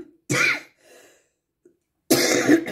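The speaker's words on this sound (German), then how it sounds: "jetzt kriege ich gleich einen Hustenanfall" A short coughing fit from a German-speaking woman, two harsh close coughs separated by a faint wheezy breath and a brief pause.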